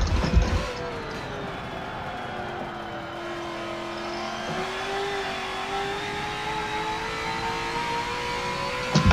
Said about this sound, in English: So we hit the limiter.